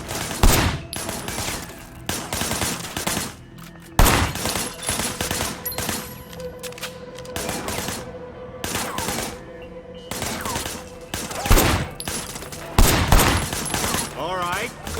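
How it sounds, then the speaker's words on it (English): Bursts of video-game gunfire crackle in repeated volleys, with loud shots against a busy background of game sound and a voice talking. "Why am I shooting at this?"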